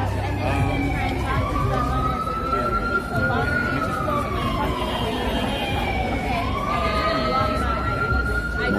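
A wailing emergency siren rises and falls continuously, loud and close, over a noisy crowd-like background of voices.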